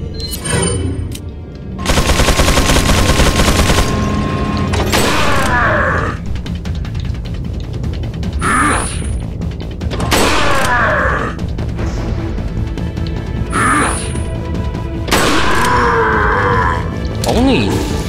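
Rifle shots and bursts of gunfire from Resident Evil 4 Separate Ways ring out loud and close, several separated blasts with ringing tails alongside sustained firing, and groaning enemies in between.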